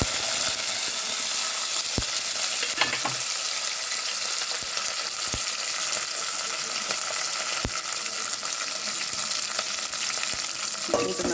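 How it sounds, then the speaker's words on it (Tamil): Urad dal, chana dal, curry leaves, green chilli and garlic fry in hot oil with a steady close crackling sizzle, broken by occasional sharp clicks of stirring against the pan, with no talk. "ஃபஸ்ட்டு ஆயில் ஊற்றிட்டு உளுத்தம்பருப்பு கடலைப்பருப்பு போட்டு கருவேப்பிலை, பச்சை மிளகா, பூண்டு"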